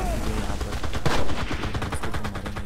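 Rapid bursts of automatic gunfire from a PUBG-style PC shooter game, loud and close, firing in quick repeated volleys across the whole stretch.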